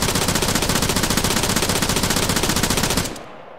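Sustained automatic fire from an Australian Army machine gun in ArmA 3, fired prone off its bipod, a rapid, even stream of loud close shots lasting about three seconds before cutting off abruptly.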